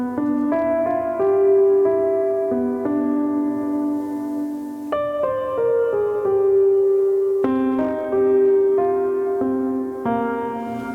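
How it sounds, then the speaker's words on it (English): Cinematic Piano patch played on a Korg M3 synthesizer: sustained, layered piano-pad chords that change every few seconds and ring into one another. The playing is full and steady with no talking. "one of my go-to patches on the Korg M3 is called Cinematic Piano, which sounds like this."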